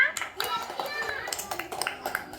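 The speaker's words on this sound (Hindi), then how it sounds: "चलो तालियां बजाओ बेटा" Children clap their hands in a classroom activity, a quick run of uneven, sharp claps close by, mixed with young voices.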